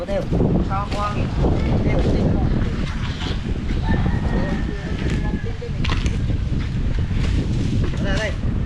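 Wind blowing outdoors and buffeting the microphone as a steady, rough rush of noise throughout, with people talking over it.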